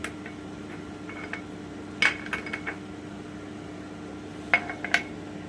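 Flour and water being stirred into a thin batter for vegetable chops, with light clinks and scrapes of a utensil against a bowl in a few short bursts over a quiet hum.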